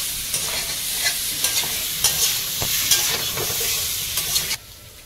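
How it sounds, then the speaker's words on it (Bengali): Fried potatoes and egg stirred through a spice paste of chilli powder, sizzling steadily with repeated scraping stirs and close frying hiss, then cutting off near the end. "এবারে ভাজা আলু আর ডিমটা দেবো, ডিম আলু একসঙ্গে আর একটু নেড়ে করে দেবো"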